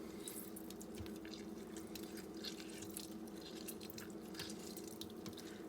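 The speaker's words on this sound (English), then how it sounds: "Squeeze a lemon in there." Lemon juice drips into homemade garlic hummus, faint wet splats and small drips scattered over a soft continuous background, close and quiet with no voices.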